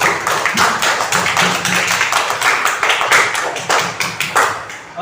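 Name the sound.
children applauding in a classroom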